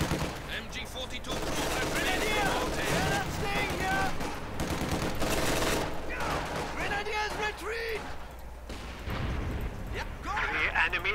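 MG-42 machine gun fire in Company of Heroes 2 crackles in sustained bursts across a busy battlefield mix, while soldier voices call out and chatter over the shooting throughout.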